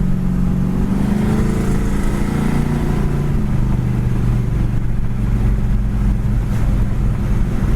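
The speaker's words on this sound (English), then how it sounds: "this thing flies down the road" A 1972 Chevy Nova SS drives down the road, its engine drone steady and loud under heavy wind rush and road roar, with the pitch easing slightly as it cruises.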